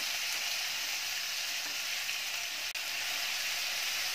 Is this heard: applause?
no